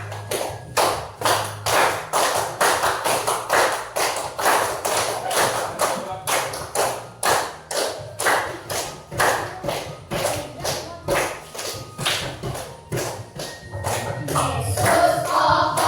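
Steady hand clapping keeps a regular beat for a long stretch, many hands together, loud and rhythmic, with worship singing faint underneath.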